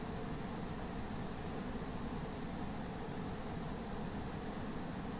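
Airliner jet engines roar at takeoff power in the X-Plane 11 flight simulator, a loud, steady broadband rumble that holds unbroken without any voices.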